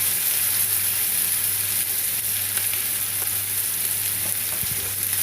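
Ginger mushroom paste fries in a pan with a constant soft hiss and sizzle while a utensil stirs it, with faint scrapes and taps near the end, close and steady, no voices.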